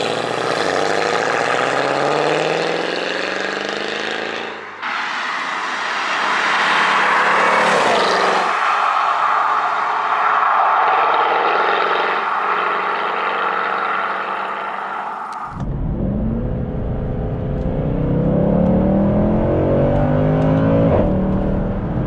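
A Mercedes-AMG C63 W204 coupe drives along country lanes, its engine loud and close throughout, with a steady drone broken by a shift at about five seconds and a drop in pitch near fifteen seconds, before it pulls hard again.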